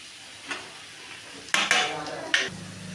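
Cut carrots tipped into a hot pan and stirred with a utensil, a louder burst of sizzling and metallic scraping against the pan after a quieter simmer.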